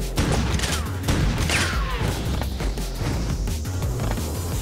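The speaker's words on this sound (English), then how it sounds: "That's the basic shotgun. One fire, one pump." A basic pump shotgun in the Choke Point video game fires repeatedly, each loud blast followed by a mechanical pump action, in a quick rhythmic series of shots.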